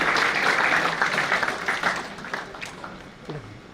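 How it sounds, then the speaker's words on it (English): Audience applause for the admission head at an orientation event, a dense burst of clapping that starts loud and gradually thins out and fades over a few seconds. "Please give a huge round of applause for admission head Mr."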